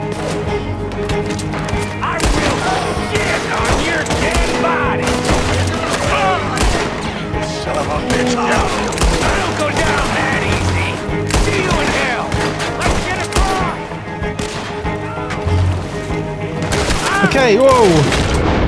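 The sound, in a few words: gunfire in video game Red Dead Redemption 2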